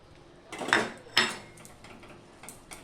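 A metal lid clanks twice onto a cooking pan of vegetarian paneer and cauliflower curry, two sharp, close knocks followed by faint, scattered kitchen taps.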